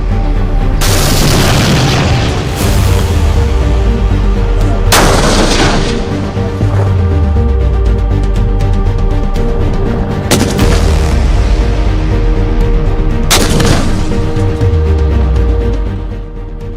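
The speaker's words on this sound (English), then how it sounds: "We leave you with these visuals of firing released by Defense Research Organization" Heavy military weapons fired in Indian DRDO test footage, with loud booming blasts at about 1, 5, 10.5 and 13.5 seconds, each followed by a rolling low rumble over continuous loud background noise.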